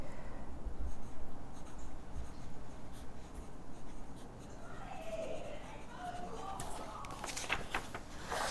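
Fountain pen nib scratching across paper while testing new pens for junk journals, a steady soft scratching close up under a low room hum, with brighter strokes toward the end.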